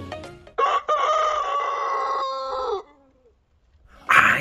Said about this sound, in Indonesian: Ini ayam teman-teman.